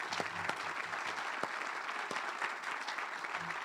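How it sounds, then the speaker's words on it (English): Audience applause at a school award ceremony, a steady wash of many hands clapping at moderate distance with no voices over it. "let's give these guys, these students, these boys,"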